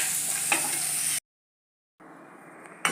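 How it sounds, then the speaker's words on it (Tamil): Tomato, ginger, garlic, cinnamon, clove and cumin sauté together in a pan, giving a steady bright sizzle that cuts out briefly, then resumes more softly with a faint scrape. "அதோட இஞ்சி, பூண்டு, பட்டை, கிராம்பு, சீரகம் எல்லாத்தையும் நம்ம ஒன்றா போட்டு நல்லா வதக்கிக்கலாம்"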